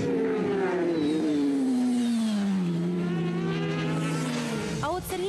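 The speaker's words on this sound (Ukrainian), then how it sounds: "Ну, скажем, 200 лошадиних сил этот мотоцикл имеет." A 200-horsepower racing motorcycle at a round of the Ukrainian motorcycle road-racing championship roars past, its engine note sliding steadily lower as it moves away, loud and close, before a brief sharp rising whine near the end.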